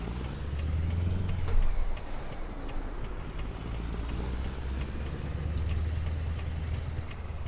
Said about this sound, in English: It's a lovely sound to this truck though.